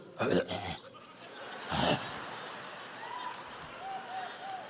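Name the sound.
imitated fake cough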